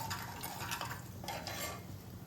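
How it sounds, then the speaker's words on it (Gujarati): Asafoetida stirred into hot oil in a pan, with a soft continuous sizzle and a few light spoon scrapes against the metal over a couple of seconds. "હિંગને તેલ સાથે થોડી મિક્સ કરી લઈશું."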